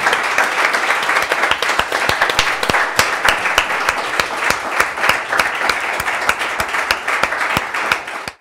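Live podcast audience giving a round of applause, dense clapping from a modest crowd with individual sharp claps standing out, loud and continuous before cutting off at the end.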